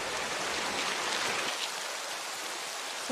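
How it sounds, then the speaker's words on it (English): Rain pours down in a dramatic television scene, a dense steady hiss of drops hitting surfaces that stays constant throughout, with no talking over it. "This whole atmosphere with the rain."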